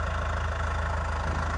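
Tractor engine idling on a farm machine with a damaged axle, a steady mid-low rumble with a fast even knocking pulse, close and constant with no voices.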